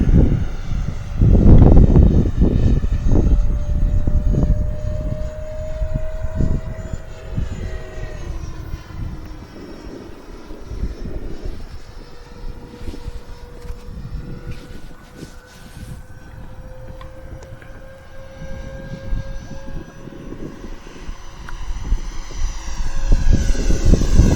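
A small FMS Futura 64mm EDF model jet whines loudly near at first, its pitch rising and shifting as it takes off and flies in wind, with wind buffeting throughout.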